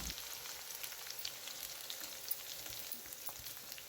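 Finely chopped onion frying in hot oil for a Marathi vermicelli (shevai) breakfast, giving a steady close sizzle with soft crackles throughout and no talking.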